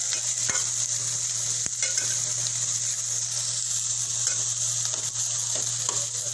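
Onion fries in a pan for a Malvani-style mushroom curry, a steady bright sizzle that fills the scene, with occasional faint scrapes from stirring underneath and no voices.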